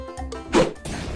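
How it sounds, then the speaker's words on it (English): A rock smashed apart in Roblox Sesame Street Mecha Builders, one sharp loud thwack-crash standing out briefly between cartoonish game sounds and background music. "Oh boy, you smashed the rock so the water can flow!"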